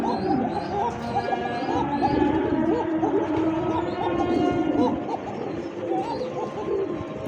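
Pigeons of racer, satin and similar breeds coo in repeated soft, throaty rolling calls at a farm, with overlapping birds close by and steady background chatter.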